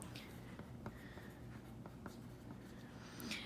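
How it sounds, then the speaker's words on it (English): Pen or pencil scratching on paper while drawing a quarter coin for a math lesson, with soft continuous strokes and occasional sharper ticks, close and quiet, no voices. "Let's draw our last really known coin."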